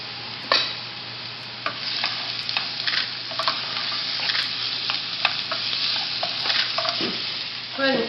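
Food sautéing and sizzling in a pan, with steady frying hiss and repeated scraping stirs and clinks of a utensil, close and fairly loud, no talking.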